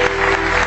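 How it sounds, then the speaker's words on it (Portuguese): Church congregation applauding together, a dense, steady wash of clapping close by and filling the whole brief moment without letup. "A igreja pode aplaudir o Senhor."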